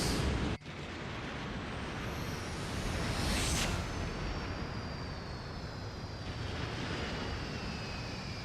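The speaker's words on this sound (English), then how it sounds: "We get to watch the explosion." A huge explosion in a Mega Man X4 video game cutscene opens with a sharp crack and swells into a loud, sustained roaring rumble that churns on without letting up.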